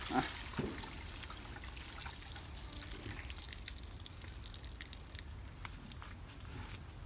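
Water trickles steadily in a Thai vegetable garden among chili plants, a faint, continuous soft hiss with small splashy flickers and a brief knock at the start, and no one talking.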